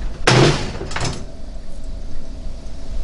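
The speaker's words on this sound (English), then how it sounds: "So let's say I just want to slam the door." A Breville Combi Wave 3-in-1 microwave, air fryer and oven has its door slammed shut, giving one sharp, loud bang followed by a second softer thud as the soft-close catch eases it closed.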